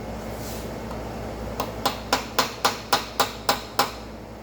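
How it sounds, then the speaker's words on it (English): A hammer taps a pin into a Titan XL ratchet held on a vise: nine sharp metallic strikes in an even rhythm, loud and close, after a short quiet stretch, with no talking. "So now we're just going to drive home this pin. For that, I'm going to tap it over there on my vise real quick."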